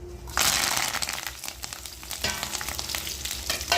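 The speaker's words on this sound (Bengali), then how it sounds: "দেব কারি পাতা আর কাঁচা লঙ্কা।" Curry leaves and green chillies crackle and sizzle loudly in hot oil for a dhokla tempering, a dense continuous frying hiss with sharp pops, starting abruptly after a short quiet moment.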